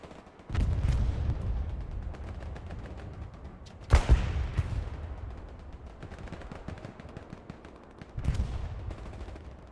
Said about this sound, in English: As explosions are heard in the distance